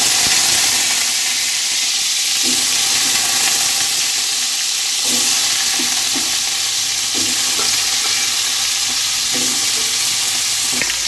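Potatoes frying in oil with cumin and a dried chili for aloo dum, giving a steady loud sizzle throughout, with intermittent soft scraping knocks from stirring, close up.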